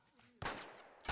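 A gunshot in The Last of Us lands sharply after a quiet moment, with a burst of crackling noise trailing off and a second hit at the end, fairly faint overall.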